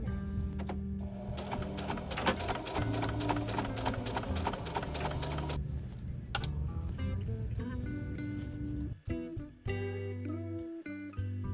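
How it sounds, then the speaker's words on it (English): A sewing machine runs in sustained bursts as it stitches the seam along the zipper of a make-up bag, with a steady rapid needle clatter close by, briefly pausing and then starting again near the end. "And then we're gonna sew it along here."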